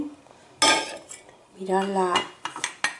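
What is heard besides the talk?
pots and dishes being handled after washing in dishwasher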